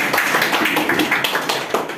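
An audience applauds at a public event, a dense patter of many hands clapping close by, steady and lively throughout the brief moment.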